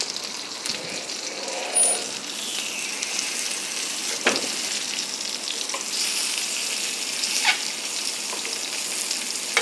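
Mackerel pieces frying in coconut oil in a small pan, a steady close sizzle with occasional sharp crackles and pops, no voices.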